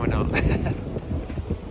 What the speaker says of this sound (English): because it's pretty windy